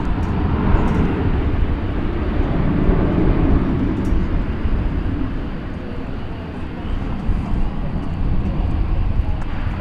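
An American Airlines Boeing 737-800 at DFW airport gives off a steady, heavy low jet rumble that fills the whole stretch, with a constant broadband roar and no clear rise or fall.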